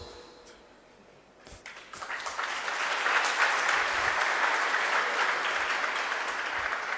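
An audience bursts into applause, building from a few scattered claps into a full, steady round of clapping that stays loud to the end.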